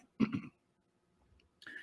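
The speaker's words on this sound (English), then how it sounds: "I don't know what I had that's making me cough like this" A person coughs and clears their throat once up close, giving a short rough burst. A faint murmur follows, then a brief vocal sound.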